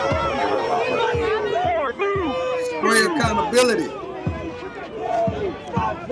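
A protest crowd of about thirty people shouting and chattering together, loud and close, with overlapping angry voices and a commentator talking over the din.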